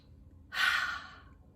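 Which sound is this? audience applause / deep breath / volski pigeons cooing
deep breath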